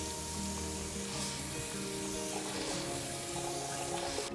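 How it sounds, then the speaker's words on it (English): Peaches being washed under running water in a kitchen sink, a continuous close hiss of the tap stream splashing over fruit, steady and even throughout with no talking. "give our peaches a quick wash here in the sink"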